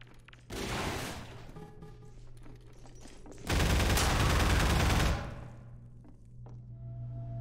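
Enemy gunfire in Half-Life 2, two loud sustained bursts of rapid shots, the second longer and heavier, with quieter game ambience between them.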